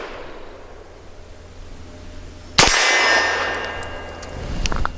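Single sharp shot from a compact Springfield Armory XDe pistol, a loud crack with ringing metallic tail outdoors, following a stretch of quiet background hiss, no talk.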